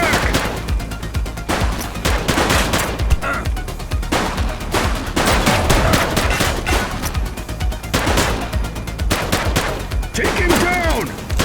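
Shootout gunfire in the police game The Precinct: dense, loud bursts of rapid shots and volleys that stay nearly continuous, with a voice calling out near the end.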